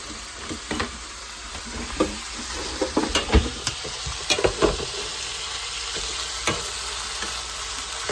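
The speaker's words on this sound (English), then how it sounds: "You stir it all up and then you're done." A spoon stirring Thanksgiving food in a frying pan over a steady low sizzle, with irregular scrapes and clatters bunched in the middle, close and without talk.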